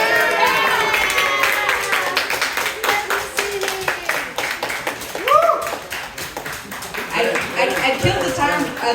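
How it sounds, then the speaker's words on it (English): A live audience at a comedy festival show claps in a steady patter of hands while a performer talks over it on stage. "so keep clapping"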